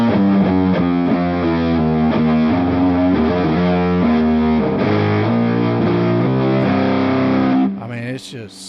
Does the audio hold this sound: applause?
no